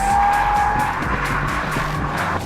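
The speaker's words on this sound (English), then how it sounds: "the C63 is a hooligan and a car that's easy to get sideways" Mercedes C63 S AMG sliding sideways on a race track with its sport ESP mode, loud engine roar mixed with sustained tire squeal for a couple of seconds, close and continuous.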